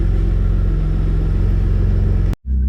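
Ford Raptor truck fitted with a Cobb intercooler and tune, engine rumbling loud and close in a steady low drone as it sets off, briefly cut by a sharp break near the end.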